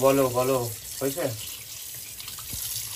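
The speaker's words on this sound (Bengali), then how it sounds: "ভালো করে ধোবে, দুটো ধোয়া আছে, তাও জল ভরাতে হবে ভালো করে" Tap water runs steadily into a sink while fish pieces are washed, a continuous close gush with a voice talking over it during the first second or so.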